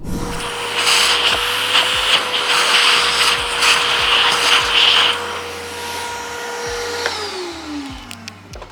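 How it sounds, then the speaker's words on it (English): A vacuum cleaner whirs continuously with scraping and rubbing sounds as it sucks up loose coffee grounds from a Breville grinder, then its motor pitch drops as it winds down, followed by a few clicks. "you'll grab your vacuum and suck up the excess and loosened grinds"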